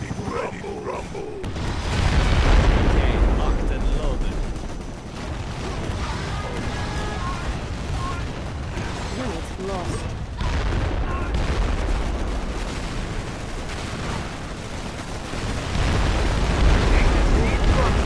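Artillery shells and bullets fire in a Command & Conquer: Rise of the Reds battle, with Golem tanks and nuke cannons engaged; booms and rapid gunfire form a dense, continuous roar with heavier low thumps swelling in waves, and voices speak over it.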